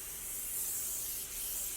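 Perfume spray bottle misting in a long continuous hiss, close and fairly soft, steady for nearly two seconds before cutting off.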